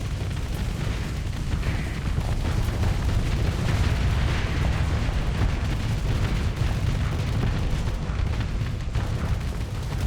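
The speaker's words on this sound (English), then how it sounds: "Ooh, taking a torpedo." A torpedo striking a ship in a space combat video game: a sustained, dense rumbling roar of explosion and crackling bursts, loud and continuous throughout with no talk.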